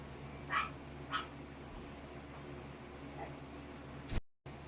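Indoor dogs give two short, sharp barks early on, followed later by a faint yip. The barks are fairly quiet and sit over a low, steady room hum.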